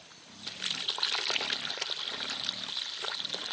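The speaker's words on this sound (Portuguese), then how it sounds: "Aí eu vou botar um bocado d'água aqui pra poder dar" Water pours steadily into a bucket of whey for pig feed, a continuous splashing gush close by with rising and falling intensity.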